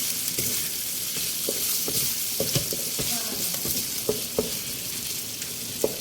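Chicken hotdog, pork strips and bell pepper strips stir-fry in a pan: a continuous sizzle punctuated by a spatula's sharp knocks and scrapes roughly every half second, with no voices.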